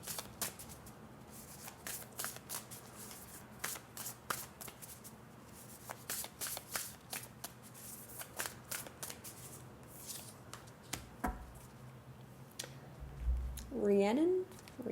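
Oracle cards from the Rooted Woman Oracle deck are shuffled by hand in a quick, steady run of soft riffling slaps and flicks, close and continuous for most of the stretch, with a brief voice near the end.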